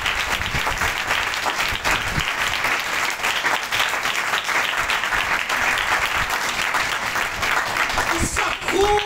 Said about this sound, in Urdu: آپ تالیاں بجا سکتے ہیں